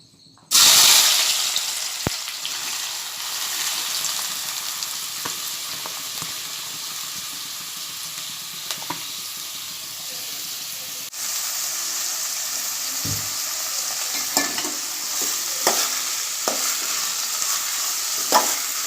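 Onions dropped into hot oil in a cooking pot on a gas stove burst into a loud hiss, then settle into a steady sizzle with occasional stirring clinks and scrapes.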